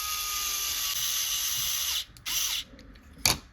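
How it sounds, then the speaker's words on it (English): Power driver running M3x30 screws into an RC kit build, a sustained whirring drive for two seconds, then short bursts and a final quick ratcheting click as the screw seats. "We're going to be putting 2 M3x30 screws in the rearward holes."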